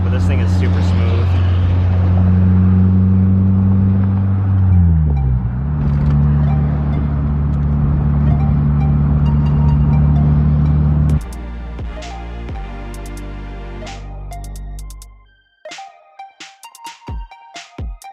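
A Mazda Miata with a 1.6 engine and static suspension drives with a loud, steady engine drone that shifts pitch and rises, then cuts off, leaving scattered small clicks and taps.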